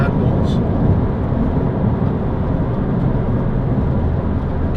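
A 2006 Toyota MR2 1.8 VVT-i roadster is driven around a roundabout on a country road, its engine and road noise forming a steady, close, low rumble heard from inside the car.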